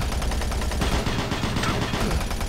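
Rapid gunfire in Doom 3, a loud steady stream of repeated shots with rhythmic bursts throughout, close and dense.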